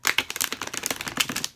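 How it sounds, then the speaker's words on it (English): A Santa Muerte tarot deck riffled in a bridge shuffle, giving a dense run of quick crisp card flutters and snaps for just under two seconds, close and fairly quiet with no talking. "Gives a good bridge shuffle too."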